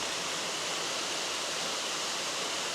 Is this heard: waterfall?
yes